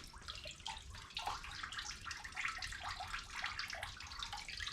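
Water sloshing and trickling inside the hollow body of a hydro-dipped semi-hollow bass guitar as it is tipped to drain through the F-hole, a soft continuous gurgle with faint splashes.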